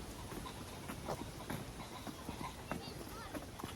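Faint hoofbeats clip-clopping in an irregular rhythm under a noisy, steady outdoor background.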